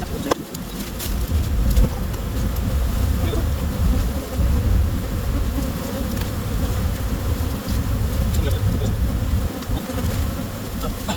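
A swarm of about 25,000 bees buzzes outside a McDonald's drive-thru, a dense continuous hum that stays loud and steady throughout, with faint background activity underneath.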